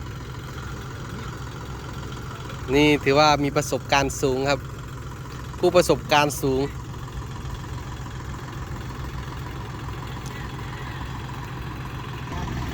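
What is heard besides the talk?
vehicle engine revving hard while stuck in mud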